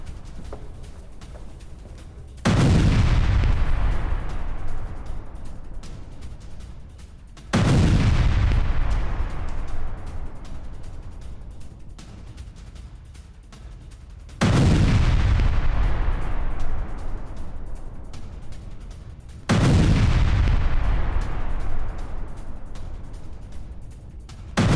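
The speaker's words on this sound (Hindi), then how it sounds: "गाजा पर इजराइल का नॉन स्टॉप हमला" Four heavy booming blasts from an Israeli artillery attack on Gaza land at regular intervals, each a loud deep impact that slowly decays into rumbling echo.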